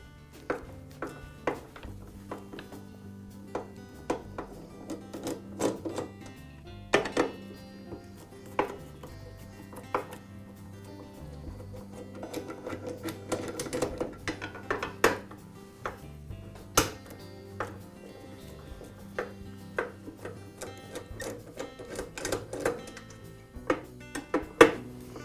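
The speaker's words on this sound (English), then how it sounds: "The lower fence is secured to the saw with 4 screws, and I'll go ahead and remove those." Screws are taken out of the lower fence of a DeWALT miter saw: scattered light metallic clicks and taps, irregular and fairly quiet, with small rattles between them.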